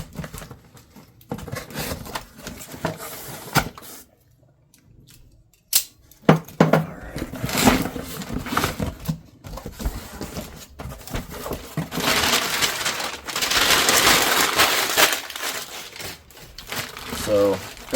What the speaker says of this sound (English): Tear into this thing real quick.